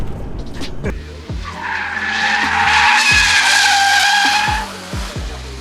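A Mazda RX8 drifting, its tires letting out a long loud screech over the revving rotary engine, with gear-shift pops and engine bursts before and after the skid.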